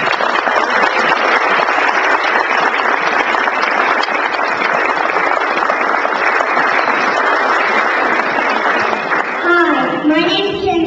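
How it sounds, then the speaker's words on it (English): Steady, loud audience applause for a guest speaker at a juvenile diabetes event fills the room continuously for several seconds, with a few voices surfacing near the end. "I want you to give her a big round of applause."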